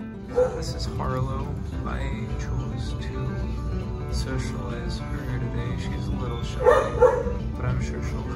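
Several dogs bark and yip intermittently over a steady background of noise and chatter, with louder barks near the start and around the end.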